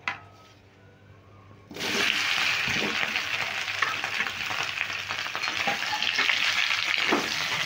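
Cut potatoes drop into hot oil with whole cumin, setting off a loud, steady frying sizzle that jumps in after a quiet start and carries on with some stirring scrapes.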